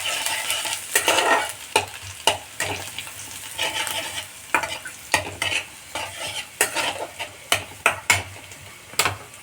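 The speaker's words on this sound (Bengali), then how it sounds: "আমি এর মধ্যে গরম তেলের মধ্যে দিয়ে দিলাম রসুন কুচোগুলো, আর আদাটা গ্রেট করে রেখেছি সেই আদাটাকে দিয়ে দিলাম। সামান্য একটু নাড়াচাড়া করব।" Chopped garlic and grated ginger are stirred in hot oil for chilli gobi manchurian, with a low sizzle under a string of sharp, irregular spoon scrapes and taps against the pan, close by and with no voices.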